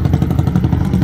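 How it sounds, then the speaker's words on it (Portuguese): A 190 motorcycle engine, just fired up, runs close by with a rough, rapid pulsing idle and a low mechanical clatter, steady and loud for the whole second. "Olha lá, vamos ver se vai pegar fácil. Rapaz, pegou."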